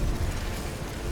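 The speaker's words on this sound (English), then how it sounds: "A magic explosion of some sort." A magical blast in The Witcher 3: Wild Hunt rolls out as a dense, roaring burst of noise, loud and sustained for about a second with no clear decay.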